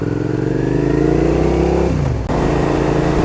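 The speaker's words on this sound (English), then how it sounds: "I'm just going to get used to riding this bike" Suzuki SV650S motorcycle being ridden, its engine loud and close as it revs and climbs steadily in pitch, then drops off abruptly before picking up again; no talking.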